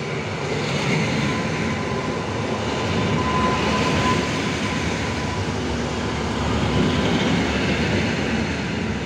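A train arrives at platform one of Rzepin station in Poland with a continuous, loud rolling rumble and wheel noise that holds steady throughout, with no voices.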